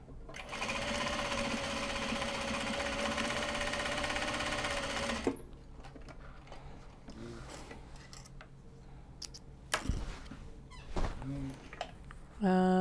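A sewing machine stitches a Japanese fabric bag in one steady, loud whirring run for about five seconds, then stops, followed by quieter handling clicks and rustles with a voice talking nearby.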